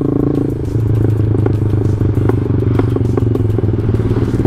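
An old Yamaha Jupiter MX motorcycle engine idles with a low steady rumble while warming up, punctuated by repeated sharp pops and crackles from the exhaust, close and loud.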